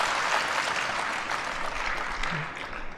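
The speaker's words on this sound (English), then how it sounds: "Can you give a big round of applause for yourself?" An audience at a speech claps steadily for about three seconds, a moderately quiet wash of applause with no voices over it.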